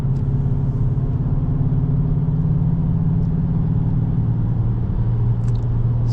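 A car running in sport mode on an Alberta road, its engine a steady low rumble from inside the cabin, constant and even throughout with a few faint ticks and no talk.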